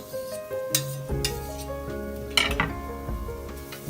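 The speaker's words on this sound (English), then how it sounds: "Alright, so I'm going to add my garlic first." Garlic hits hot oil in a pan and a steady sizzle starts, close and fairly quiet, with a few sharp clinks of a utensil against the pan at the start and again midway.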